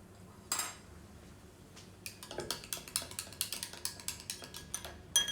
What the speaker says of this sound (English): And then give that a stir.